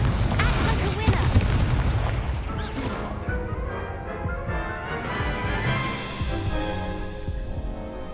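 Repeated Confringo fire spell blasts from the Hogwarts Legacy video game, loud booming explosions with crashing debris up front, trailing into a rumbling echo, over game music.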